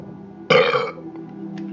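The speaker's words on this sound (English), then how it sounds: "no matter which voice we burp in, we're still burping" A single loud burp erupts abruptly after a quiet moment, lasting under half a second, then fades into faint background hum.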